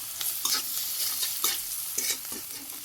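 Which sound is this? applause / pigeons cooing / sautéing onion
sautéing onion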